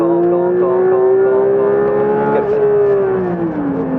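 A Porsche accelerates at full throttle on a race circuit, its engine a loud, steady, close drone with a slowly rising tone that eases slightly near the end.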